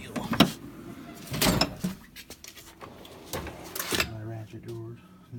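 A drawer on a Snap-on tool box slides open with a few rolling, metallic clunks and rattles, close by, while someone talks over it.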